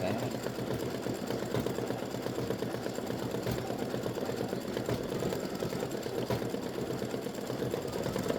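An embroidery machine stitches a Halloween spider design, giving a steady, continuous mechanical whir with a fast needle rhythm that holds at an even level throughout.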